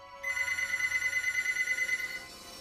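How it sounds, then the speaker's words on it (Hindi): A mobile phone left in a kitchen rings with a steady, sustained electronic tone that holds for about two seconds and then stops, heard at moderate distance with no talking. "रैकी का फोन जो उसने गलती से किचन में छोड़ दिया था वो रिंग हुआ"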